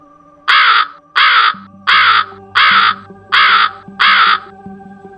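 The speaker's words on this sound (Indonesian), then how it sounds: "Burung itu berbunyi lagi." A crow caws six times in a slow, regular series, each call loud, harsh and close, with a low steady hum running underneath, set as an ominous bird in a horror story.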